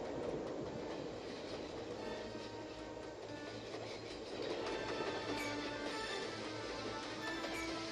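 A train running on rails, its steady rumble and wheel clatter continuous and close for the whole stretch, with faint squeals and rattles of the carriage rising briefly near the end.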